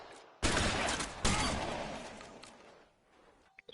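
Two heavy gunshots in the police shooter LA Noire, probably from a shotgun, each a loud blast whose echo fades slowly, the second coming about a second after the first, then a few faint clicks.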